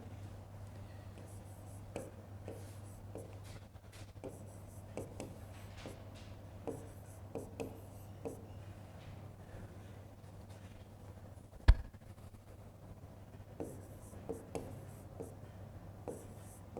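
Hand writing during a technical lecture on BERT: soft, close scratching strokes in short bursts with one sharp tap midway, over a steady low electrical hum and no talking.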